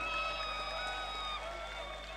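Applause from a political convention audience, a dense steady wash of clapping with crowd noise and sustained tonal sounds over it, fairly even throughout.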